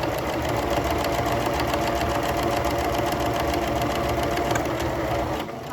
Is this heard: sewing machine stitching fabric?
yes